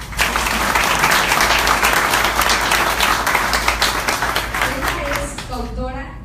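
An audience applauds at a book presentation panel in Tuxpan, Veracruz, with loud, sustained clapping that thins out toward the end as a voice starts to come through.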